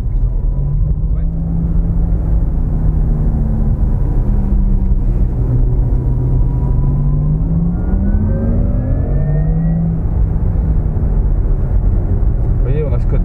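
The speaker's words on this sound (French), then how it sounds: "on a ce côté un peu sportif de l'accélération, oui, comme ça, avec le bruit." A Porsche Taycan 4S accelerates with its synthetic sporty drive sound, a steady hum whose pitch rises and falls in smooth sweeps as the car gathers speed, close and continuous, with people talking over it.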